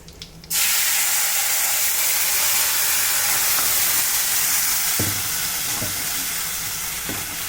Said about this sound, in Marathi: जिरं चांगलं तडतडलंय. आता हे वाटण त्यात घालूया.